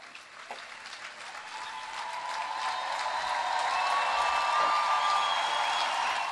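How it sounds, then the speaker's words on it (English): Live crowds in European cities cheering and applauding, a distant, reverberant swell of clapping and shouting that builds steadily louder and then holds. "the cheering that you heard there from live crowds in those cities"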